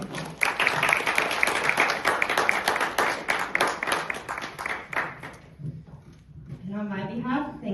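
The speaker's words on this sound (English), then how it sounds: "So big round of applause for Nicolette." Audience at a competition finale applauds, steady dense clapping for about five seconds before dying away, followed by someone speaking.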